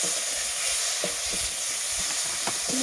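Tomatoes frying in a pan as a vegetable dish is cooked, stirred with a spatula in a steady sizzle, soft scraping strokes repeating every half second or so, close and continuous with no talk.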